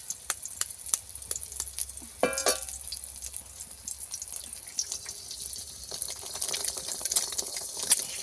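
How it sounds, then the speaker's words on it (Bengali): A single egg cracked into a hot pan for an egg and eggplant curry, with a brief crunch of the shell followed by steady soft sizzling and frying that continues at a moderate level with light clinks. "একটা ডিম নিয়ে নিয়েছি, ফাটিয়ে দিয়ে দেবো।"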